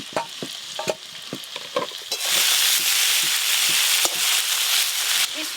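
Giant freshwater prawns fry in a pan for a village-style malai curry, first with stirring scrapes and light spatter, then a loud, steady, close sizzle that fills the rest.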